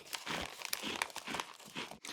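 A snack wrapper of Akko Salt Agamochi rice crackers is handled and opened, giving close, continuous crinkling and crackling plastic sounds in irregular bursts with no talk.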